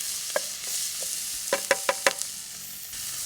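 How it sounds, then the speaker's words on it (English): Onions and pimentos sauteing in a pan after toasted spices, a soft steady sizzle underneath a few sharp clicks and taps of a utensil against the pan near the middle. "we're going to add in our onions, pimentos, and let that saute a little bit."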